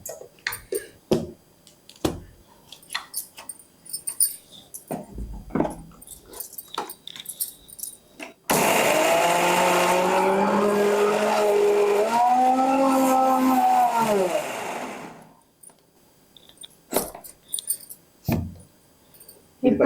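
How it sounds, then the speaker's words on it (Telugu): A mixer grinder grinding green chillies, onion and curry leaves whirs loudly for about seven seconds, its motor pitch shifting as it churns, between bursts of clinking and handling noises before and after. "దీన్ని మిక్సీ పట్టుకుందాం మనం"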